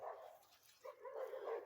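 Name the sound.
dogs barking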